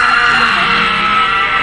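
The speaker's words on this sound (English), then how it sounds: "get ready to scream on 3" A group of people on a Florida vacation scream together on a count of three, making one loud, sustained, blended shriek held close to the microphone for the whole moment.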